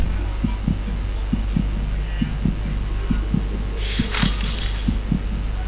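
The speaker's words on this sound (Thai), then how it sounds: "เสียงหัวใจเต้นตึกตึกตึก" A heartbeat sound effect from the horror game The House 2 plays as a steady run of paired, low thumps over a constant hum, with a brief burst of higher noise midway.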